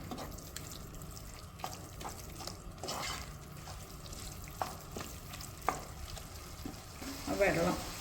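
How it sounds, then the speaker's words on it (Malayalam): Kerala-style bitter gourd curry (pavakka theeyal) sizzling and frying in a pan while a spoon stirs it with soft scraping strokes, quiet and close, with a brief clatter of liquid near the end. "ഇടയ്ക്ക് യോജിപ്പിക്കുക."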